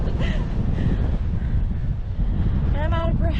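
Steady wind roars across the crest of a sand dune, loud and close, rumbling into the microphone while a voice speaks briefly over it.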